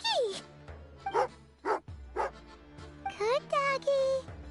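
A dog named Tagarin in the video game Genshin Impact gives a series of short yips and bow-wows while eating jerky, broken into several separate bursts, the later ones quick and close together, with no speech.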